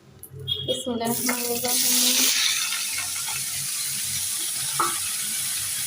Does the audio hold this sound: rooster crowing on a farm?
no